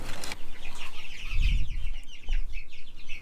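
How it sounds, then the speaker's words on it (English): Three-week-old black Australorp chicks in a brooder box, giving faint high chirps and peeps over a rustling background, with some soft low bumps and shuffling nearby. "I've already got my black Australorp chicks"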